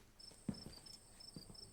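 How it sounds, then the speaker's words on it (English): Crickets chirping on a warm night in the video game Scarlet Hollow, faint steady high trills with a few soft low thumps beneath, no talk. "the night all warm compared to the chill day, crickets crying"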